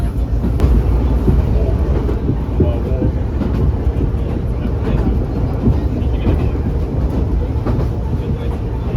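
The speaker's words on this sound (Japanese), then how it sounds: "この電車は各駅停車、松江新宿温泉駅、快適列車です。" An Ichibata Electric Railway local train running during a fireworks-viewing service near Matsue, a loud continuous rumble of wheels and car body from inside the carriage with faint rhythmic clatter.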